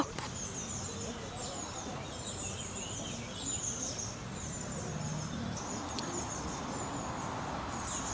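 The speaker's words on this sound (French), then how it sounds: "Oh, il y a un oiseau!" Small bird chirps outdoors during a camper weekend, repeated thin tweets at a moderate distance over a soft hiss of ambient background.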